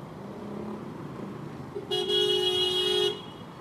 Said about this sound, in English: Stop honking your horn. Seriously, can't they see the...